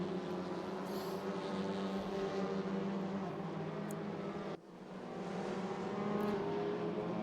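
Race cars from a sim racing league contest at Portimao, including an Alfa Romeo, as several engines drone steadily together at high revs, their pitch holding level before a brief dip and a swell back to full volume.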